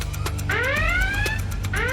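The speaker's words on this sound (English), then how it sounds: "there's the alarm that signals it's time to enter the water" A wailing electronic alarm signalling time to enter the water sweeps upward in two rising tones over a steady low hum, loud and close.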